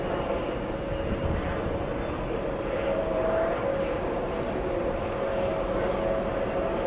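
Fixed-wing airliner landing on runway 31 right at JFK airport, a steady, loud broadband engine roar that holds without a break, with a faint tonal whine rising partway through.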